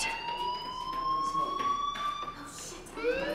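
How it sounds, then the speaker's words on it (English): A fire alarm rings inside a school building in the video game Life is Strange, a steady electronic wail that slides slowly upward and holds for several seconds, loud and continuous with no talking over it. "Hey, do you hear that fire alarm?"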